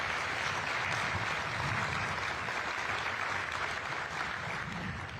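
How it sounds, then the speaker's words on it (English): An outdoor crowd at a grand-opening ceremony applauds the band, a steady wash of clapping heard at moderate distance, fairly faint and even, with no talk over it. "Let's give them a round of applause."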